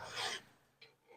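A hand file rasps across metal while shaping a Balinese keris fitting: a sustained rough scraping stroke, then a shorter, fainter rasp a moment later, close and alone.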